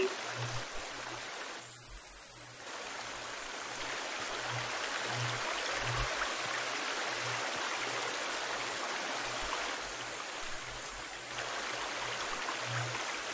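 A waterfall in The Forest survival game gives off a constant broadband rush of falling water, steady and fairly close, with a faint rhythmic low drumming pulsing underneath throughout.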